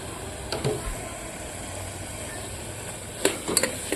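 A spoon stirs chili powder into a simmering ridge gourd and moong dal curry, making soft scrapes and a few light clinks over a low, constant background hiss.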